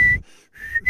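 A person whistles the melody of a song, loud and close, in two phrases split by a short gap near the middle of the second.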